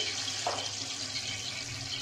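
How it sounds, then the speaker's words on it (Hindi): Water splashes into a cooking pot, one cup poured while making mutanjan, a soft brief gush followed by a faint steady trickle. "इसके अंदर मैं पानी डाल दूंगी, जो मैंने आपको बताया था।"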